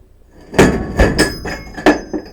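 A treadle hammer in a home foundry strikes metal several times in an irregular rhythm, each a sharp, ringing clank, close and loud, with no talk.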